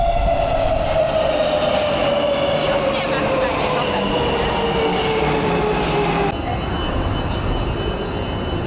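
A Warsaw metro train on line M2 rolls with a loud, steady rumble and a falling wheel squeal, heard close from inside the carriage.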